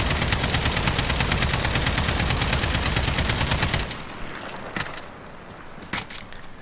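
Sustained rapid automatic fire from an RPK light machine gun in Modern Warfare, loud and dense for several seconds before stopping, followed by a few sharp isolated bangs.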